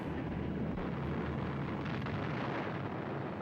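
Distant explosions during the London Blitz air raid of 1940 form a continuous low, rumbling roar with dull booms, fairly faint and steady throughout.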